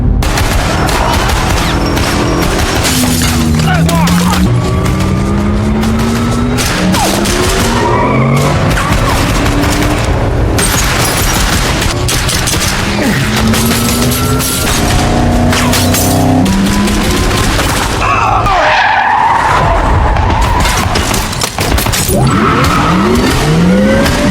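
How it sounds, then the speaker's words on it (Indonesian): A car skids and loses control after being hit by gunfire during an action-film chase. Loud tire squeals and screeching sweeps run throughout, mixed with bursts of shots, impacts and a shattering crash over a dense, constant roar. "mobil Donnie terkena tembakan hingga kehilangan kendali"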